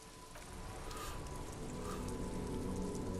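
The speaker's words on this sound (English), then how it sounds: "This rain will not let up anytime soon." Steady rain falls in a noir city street in the video game Disco Elysium, a continuous broadband hiss of drops that holds at an even, moderate level throughout with no voices.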